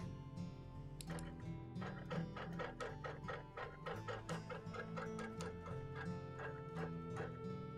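A sewing machine stitching during free motion quilting on a sampler quilt, a steady rapid mechanical ticking and needle clatter running continuously throughout at close range, with no talking.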